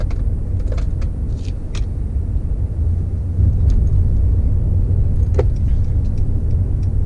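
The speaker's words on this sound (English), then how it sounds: "we're just merging onto a highway right now" A Mercedes-Benz car merging onto a highway, its steady road and engine roar holding loud and continuous, swelling slightly partway through, with a few faint clicks inside the cabin.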